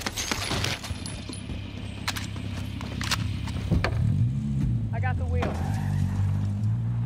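A vehicle driving in Warzone, its engine drone rising and shifting in pitch under a busy mix of game noises, with people talking over it.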